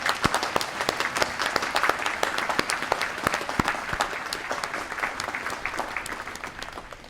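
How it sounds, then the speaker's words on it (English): Audience applause at an outdoor Memorial Day observance in Walnut Creek, a steady crackle of many hands clapping at moderate distance, fairly soft and continuous with no voices. "Please give them a round of applause."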